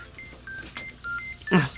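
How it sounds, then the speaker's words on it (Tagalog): A cellphone rings in an Ilocano-language audio drama: a string of short repeated electronic tones, fairly soft, with a louder burst of sound near the end. "Cellphone mo gayam ti agri-ring"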